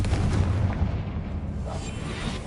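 Confringo spell explosion in a Hogwarts video game: a loud, sustained booming rumble that fills the whole stretch without easing off.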